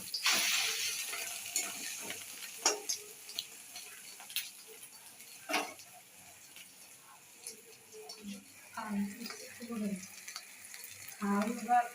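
Chilies stir-frying in hot oil in a home kitchen, a steady soft sizzle broken by scraping stirs and light clicks of the spoon against the pan, close and fairly quiet, with a few faint voices in the background.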